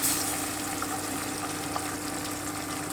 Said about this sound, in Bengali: আমি মাছগুলো দিয়ে দিচ্ছি মাছগুলো কিন্তু একটু ভালো করে ভাজতে হবে কড়া যেন হয় ভাজাটা